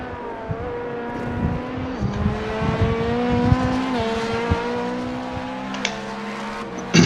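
V6 race car engines in the iRacing video game simulation of Le Mans 24 hours, a sustained loud engine drone with rising and falling pitch as gears shift, occasional clicks and bumps over a steady mechanical roar, with no talking.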